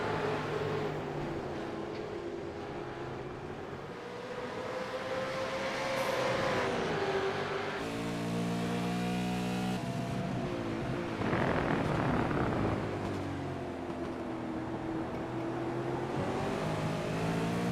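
A pack of V8 race cars roars past on the track at Motegi, with overlapping engine notes rising and falling in pitch as they accelerate and shift. The sound is continuous and moderately distant.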